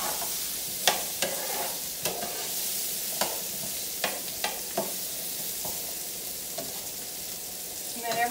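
Ratatouille cooking down in a pan gives a soft, continuous low sizzle, broken by a series of sharp spoon scrapes and taps against the pan as it is stirred, fairly quiet and close.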